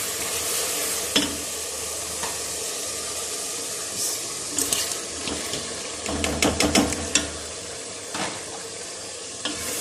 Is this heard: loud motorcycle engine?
no